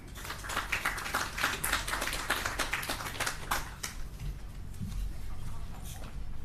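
Hands clap at a Jamaica national cybersecurity awareness event, a quick sequence of dry, fairly close claps for roughly four seconds, then a quieter room with low murmuring.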